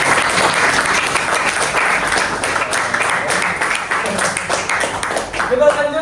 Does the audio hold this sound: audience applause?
yes